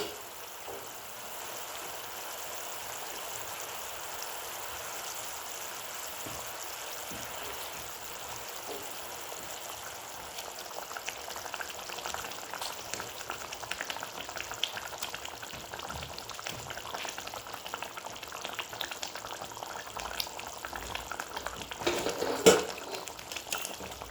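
Fried ভাঙ্গল fish stirred into hot spiced oil with ground cumin and coriander for a tel jhal curry, giving a steady, moderate sizzle and bubbling that grows busier and more crackly toward the end, with a few spoon scrapes and no talk.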